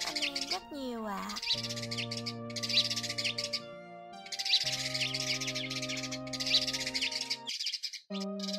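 A recorded sparrow lure call plays loudly, a chorus of high repeated chirps and tweets for tree sparrows and other sparrows, layered over sustained tonal background music.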